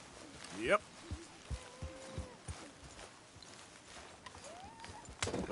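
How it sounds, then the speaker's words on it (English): Horse hooves clip-clop in Red Dead Redemption 2, a handful of separate hoof thuds spaced irregularly at moderate distance, with voices talking over them and a brief higher animal-like call near the start. "Careful with that horse, Arthur."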